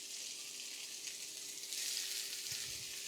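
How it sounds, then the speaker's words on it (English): Halved whole fennel sears in a hot pan, giving a soft, steady, hissing sizzle that swells slightly midway, close but quiet, with a faint low bump near the end. "So that's what you want to hear, that nice sear"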